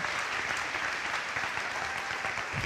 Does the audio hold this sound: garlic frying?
no